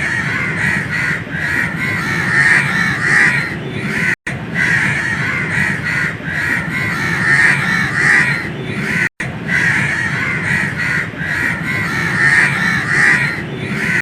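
Crows caw loudly and repeatedly in a park with shady trees, with other birds joining in and the calls overlapping continuously throughout.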